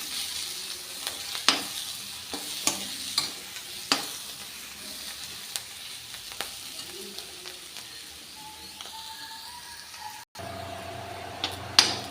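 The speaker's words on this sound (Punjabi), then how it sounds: "ਮਸਾਲਾ ਜੀ ਆਪਣਾ ਭੁੱਜ ਰਿਹਾ ਜੀ ਆਪਾਂ ਥੋੜਾ ਜਿਹਾ ਜੀ ਹੋਰ ਬਰਾਊਨ ਕਰਾਂਗੇ" Masala frying and browning in a pan at home, a soft steady sizzle with scattered clicks of stirring, close and alone with no talk.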